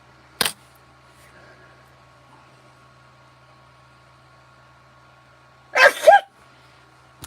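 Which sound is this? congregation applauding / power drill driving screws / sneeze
sneeze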